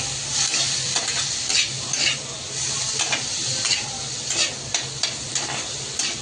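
Cluster beans coated in chilli masala are stir-fried in a pan, giving a steady hiss of sizzling broken by irregular scraping and clinks of a spatula stirring against the metal.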